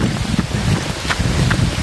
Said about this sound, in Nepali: पानी बेसरी ठुलो पऱ्यो